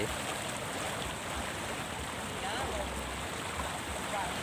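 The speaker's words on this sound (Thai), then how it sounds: "ำเป็นประตูน้ำน้ำไหล" Water pouring steadily through a sluice gate on a natural canal, a constant rushing wash close by, with someone talking over it.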